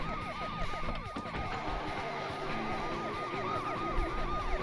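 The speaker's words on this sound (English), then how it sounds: "The broken engine limo sound." A broken-sounding limousine engine drones and rattles in Driver 2, while wavering police sirens wail steadily over it throughout.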